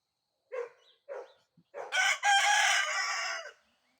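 A rooster gives two short clucking calls, then a long, strained crow heard moderately close, with quiet surroundings.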